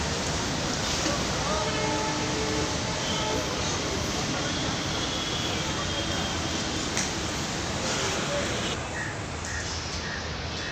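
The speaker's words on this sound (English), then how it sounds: "I am in platform number 6 now, Yeshwantpur Railway Station." Ambience on platform 6 of Yeshwantpur Railway Station in Bangalore: a broad, continuous wash of train and station noise with crows cawing now and then, loud and steady throughout.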